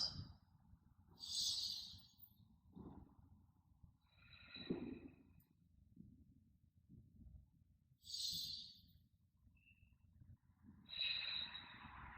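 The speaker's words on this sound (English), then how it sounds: "We'll go 5 more nice slow breaths" Slow, deep breaths during a trauma release exercise, each long inhale and exhale repeating at an unhurried pace with soft airy hiss, close and quiet, with no talking.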